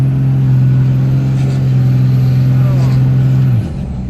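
A 2002 Ram 2500 with a Cummins diesel engine drones steadily at close range with a strong low engine tone, dropping off near the end, while someone talks over it.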